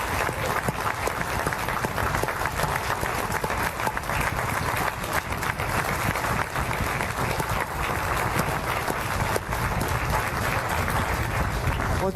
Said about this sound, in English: let's have one last round of applause for all of our candidates who did a great job